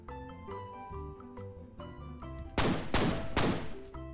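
Explosive bursts from the Warning Shots weapon in the artillery game ShellShock Live, three loud broadband blasts in quick succession near the end, following a stretch of quieter game music and tones.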